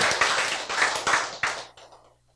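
Church congregation bursting into brief applause during a sermon, several quick rounds of scattered clapping close by, dying away after about two seconds.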